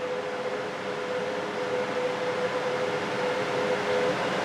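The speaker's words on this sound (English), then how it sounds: "We're running 30 ASICs in here right now." Thirty ASIC cryptocurrency miners running together inside a shed make a loud, steady roar of cooling fans with a sustained whining tone riding on top, unbroken and filling the space.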